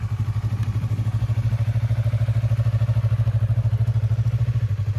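A motorcycle engine runs steadily at low revs with an even, rapid pulsing thump while the clutch is slowly let out, close and loud with no voices.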